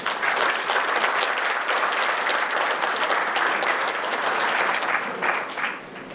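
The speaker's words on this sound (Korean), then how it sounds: "뜨거운 박수로 맞이해 주시기 바랍니다." A lecture audience in Incheon, South Korea, gives a speaker a warm welcome with about six seconds of dense, close, steady clapping that thins out at the end.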